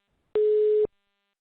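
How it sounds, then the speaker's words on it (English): A single electronic phone tone sounds during an online panel webinar, a steady pure beep lasting about half a second, clear and fairly loud against near silence, with no talking over it. "It sounds like there's a mobile phone going off somewhere"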